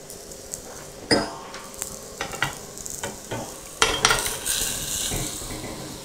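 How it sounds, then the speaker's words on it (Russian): Nut-shaped cookie batter sizzles in a hot, lightly oiled clamped mold pan held over a flame, a soft frying hiss under occasional metallic clinks and scrapes of the pan. "Пока еще держу зажатую сковородку на огне."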